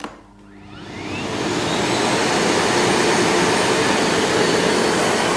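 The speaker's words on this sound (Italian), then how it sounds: "Poi vi faccio sentire il rumore alla potenza massima." A Miele Blizzard vacuum cleaner starts up and spins to maximum power, its motor whine rising within about two seconds into a loud, steady close-up roar with a high whistling edge.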